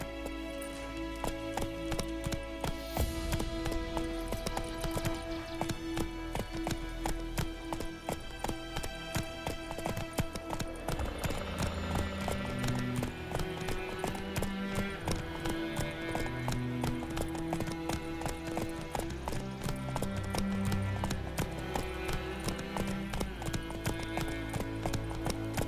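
Roach the horse gallops in The Witcher 3, steady rhythmic hoofbeats clip-clopping up close beneath a swelling orchestral game score.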